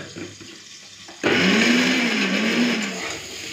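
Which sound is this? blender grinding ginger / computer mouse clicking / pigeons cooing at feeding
blender grinding ginger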